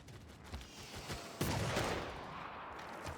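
A burst of gunfire from a unit's attack in Civilization VI, with a sharp onset followed by a dense, sustained rumble of shots and explosions fading out over a few seconds.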